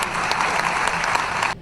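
Sustained applause from a seated audience after a speech by the president of the Republic, loud, dense clapping that fills the short stretch and then cuts off abruptly near the end.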